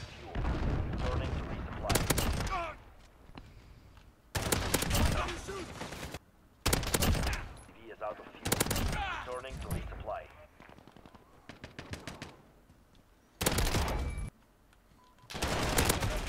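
Repeated bursts of rapid automatic gunfire from a Striker 45 submachine gun in Call of Duty: Modern Warfare, a domination match, loud and close in several separate strings, with a player talking between and over the shots.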